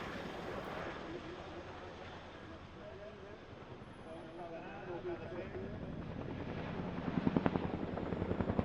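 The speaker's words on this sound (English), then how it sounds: "the Chinook really is ideal for missions such as troop transport and paratroop missions such as this one" A Chinook twin-rotor military helicopter flies a troop transport and paratroop demonstration at a military airshow, its steady rotor thrum and engine whine rising slightly louder near the end, with a narrator's voice running over it.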